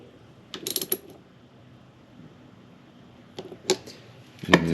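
A socket ratchet snugs down a bolt while a carburetor is installed on a Yamaha FZR 1000 motorcycle: two short bursts of rapid clicking, near and fairly quiet, with a louder click at the end.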